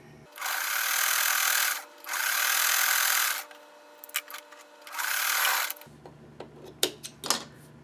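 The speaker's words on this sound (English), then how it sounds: "I'm going to sew these two together and then these two together, and we'll just chain piece that." A sewing machine chain piecing quilt block pieces, three steady whirring runs of stitching separated by short pauses, followed by light clicks and handling noises, with no talking.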